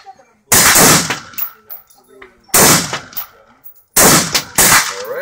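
Three loud, sharp gunshots from a Tavor .223 rifle at a shooting range, spaced about one and a half to two seconds apart, each with a bright crack and a brief ringing decay, close to the microphone.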